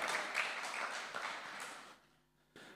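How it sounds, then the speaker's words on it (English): A church congregation claps at a Sunday morning service, a quiet, diffuse round of applause that fades out after about two seconds, followed by a brief silence and then a voice. "Let's give them a round of applause."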